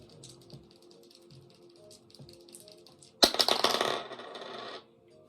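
Several dice are shaken and rolled across a hard surface in a burst of rapid clattering rattles lasting over a second, following faint quiet handling sounds, with no talk.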